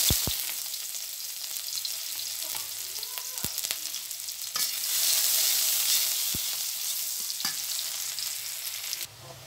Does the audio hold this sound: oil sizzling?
yes